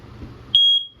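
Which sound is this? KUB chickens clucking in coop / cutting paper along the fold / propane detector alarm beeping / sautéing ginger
propane detector alarm beeping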